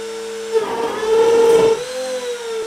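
A CNC milling machine makes a cutting pass on a climbing hold, giving a close, loud whirring, grinding tone that swells in the middle of the pass and then eases into a steady spindle hum.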